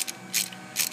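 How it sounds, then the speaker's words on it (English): A hand ratchet tightens an engine mount bolt on a Ford Focus, giving two short bursts of quick clicking a moment apart, close and crisp. "And then you could take a regular ratchet,"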